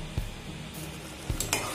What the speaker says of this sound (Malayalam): അപ്പൊ ഫ്രണ്ട്സ് നന്നായിട്ട് തിളച്ചു തുടങ്ങിയിട്ടുണ്ട്.